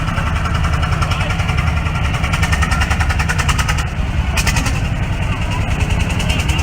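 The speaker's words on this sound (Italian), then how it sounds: "con un trattore Landini L25" A 1956 Landini L25 tractor runs at an agricultural machinery blessing during the San Martino fair in Inveruno, its single-cylinder engine thumping in a loud, rapid, steady beat close by, with crowd noise and an announcer's voice over it.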